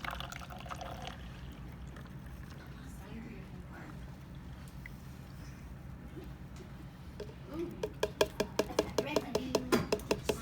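Sand and salt water mixture poured into a sieve, a steady trickle and splash building near the end with rapid dripping, over a low background hum.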